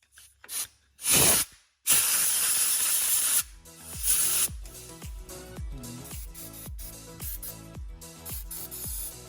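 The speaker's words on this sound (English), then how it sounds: "shoot it with some brake cleaner." Brake cleaner is sprayed onto a Yamaha golf cart's brake cable in short, loud hissing bursts. One longer blast follows, then a run of quick rhythmic scraping or rubbing strokes.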